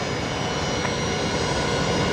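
A Qantas airliner arriving from Port Vila roars steadily as it comes in to land on runway 01 at Brisbane Airport, a broad continuous engine rumble heard from a distance.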